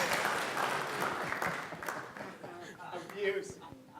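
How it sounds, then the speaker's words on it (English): An audience at a conference opening session claps together, fairly dense at first and then thinning out, with scattered voices and chatter coming up through the tail end. "Come on, a round of applause for no more doctor jokes."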